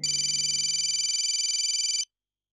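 An electronic telephone ringtone on an incoming call, one loud, steady warbling ring lasting about two seconds, then cut off abruptly into silence.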